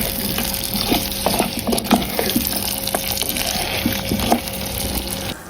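Meat sizzles in hot oil with onion, garlic, dried chili and bay leaf, a dense, steady crackle dotted with small pops and occasional stirring clicks close by.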